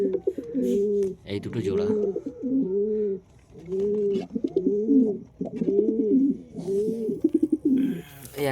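Pigeons in a loft, including a pair sitting on eggs, give a run of low, rhythmic coos, loud and close, with someone talking briefly over them.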